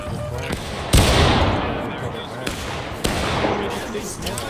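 Musket volleys crack out on a War of Rights battlefield, several sharp reports at irregular intervals, each followed by a decaying rumble, with a voice talking beneath the shots.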